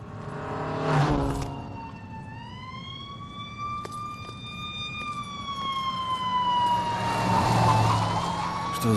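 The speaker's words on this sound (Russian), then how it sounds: "Кажется, я слышал сирены." Emergency vehicle sirens in the video game Murdered: Soul Suspect, a single clear rising and falling wail sweeping over a low rumble of traffic, moderately near and heard alone without talk.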